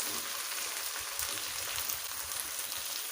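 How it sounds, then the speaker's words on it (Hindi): Sliced okra (bhindi) fries in a pan with an even, hissing sizzle that carries on without a break, close up and unaccompanied. "भिंडी को हमने उस टाइम तक फ्राई करना है जब तक इसके अंदर से ये चिपचिपाहट ख़त्म ना हो जाए"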